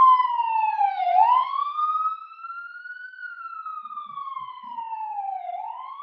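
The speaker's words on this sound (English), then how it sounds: "let the ambulance go by." Ambulance siren passing by, a loud wailing tone that sweeps slowly up and down, fading somewhat as the vehicle moves off, with no voices over it.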